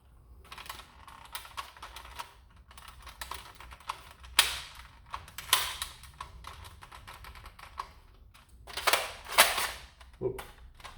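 Dart Zone Max Stryker foam blaster being handled, with a few sharp plastic clicks and clacks spread unevenly across the clip, including louder snaps near the middle and end; no talking.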